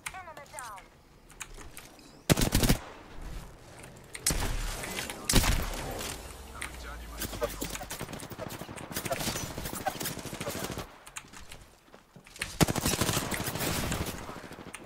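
Automatic weapons fire in Apex Legends comes in sharp, loud bursts separated by quieter stretches of game noise, close and punchy each time it erupts.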